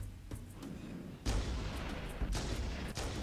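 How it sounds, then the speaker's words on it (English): Heavy sniper rifle shots in Halo Master Chief Collection, two or three deep booming blasts with rumbling tails over a steady game background, loud and close. "You can see the sniper rifle totally devastates everything, pretty much."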